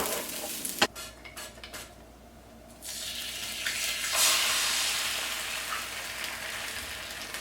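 A utensil clinks and scrapes in a pan of egg frying in avocado oil, followed by a soft steady sizzle; close and fairly quiet.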